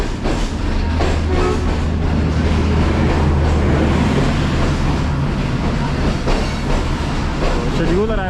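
A train rumbles steadily at Wazirabad Junction in heavy fog, with a continuous low drone and rolling rail noise throughout, while someone talks over it.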